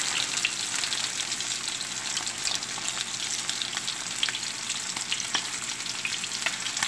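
Macadamia-crusted mahi mahi fillets frying in hot oil, a bright, even hiss of sizzling with scattered fine crackles, steady and moderately close, no talk.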